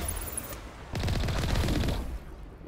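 Gunfire in the sci-fi game Mass Effect on Virmire, a quick rattling burst of rapid shots lasting about a second, fairly close, with quieter ambience before and after.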